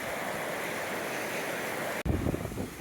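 Runoff from Evolution Lake in the High Sierra roars steadily nearby near a waterfall, a broad continuous wash, with a brief dropout and a slightly louder, choppier stretch near the end.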